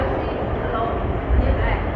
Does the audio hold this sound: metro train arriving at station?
yes